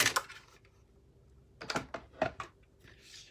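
A mini Stampin' Cut and Emboss machine runs a die through: quiet, close mechanical clicks and clatters in short clusters, separated by a near-silent pause.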